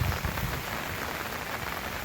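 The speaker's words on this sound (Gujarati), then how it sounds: "ચોમાસું છે વરસાદ ચાલુ છે" Steady monsoon rain pours down in the Gir forest, a dense, even hiss of drops striking surfaces close by, with no voices.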